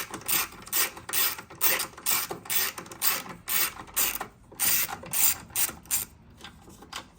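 A 10mm ratchet clicks in quick repeated bursts, near and alone, as it loosens the bolts holding down the coolant reservoir on a Honda Civic Type R.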